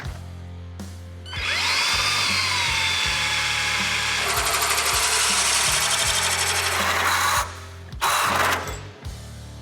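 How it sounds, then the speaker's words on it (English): A power drill whines steadily for several seconds while drilling holes in metal, its pitch shifting as it bites, with a harsher grinding stretch midway, then stops and briefly restarts. "Okay, so we have the holes that we need drilled out."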